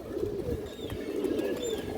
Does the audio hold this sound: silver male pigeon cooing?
yes